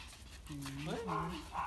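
A puppy whimpers in a thin, wavering whine at close range, with soft breathy sounds, while people talk nearby.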